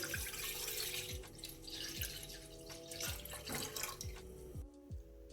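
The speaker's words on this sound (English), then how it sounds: "In a pot, you're going to add half of the milk." Milk pouring into a cooking pot, a continuous trickling liquid stream with a rhythmic series of splashing gulps and drips, fairly faint and close.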